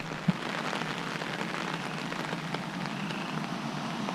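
Heavy rain falling during Hurricane Harvey, a steady, dense hiss of drops pounding the surface without letup, with one brief knock near the start.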